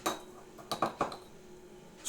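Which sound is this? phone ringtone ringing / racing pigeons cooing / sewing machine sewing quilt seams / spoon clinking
spoon clinking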